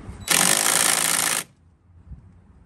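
A power tool whirs at a loud, steady pitch for about a second to tighten a bolt on a BMW 328i xDrive manual transmission during a rebuild, then cuts off into quiet shop ambience.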